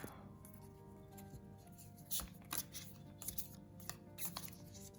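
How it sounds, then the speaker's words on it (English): Quiet, close-up papery rustling and light slapping of tarot cards being shuffled, in irregular bursts over a soft background. "Just doing a good shuffle."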